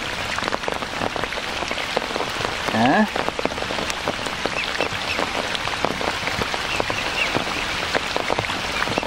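Rain patters steadily on outdoor surfaces near water where swans are kept, dense close drops throughout, with a brief bird call and a short spoken word partway through.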